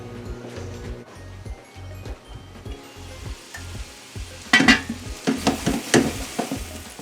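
Meatballs fry in a pan with a steady sizzle as they are pushed around, and a rhythmic low clatter runs through the first half before scraping and bumping of utensil against pan grow louder near the end.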